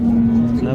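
A cow gives a short, low steady moo close by at a busy cattle market, heard amid the surrounding noise.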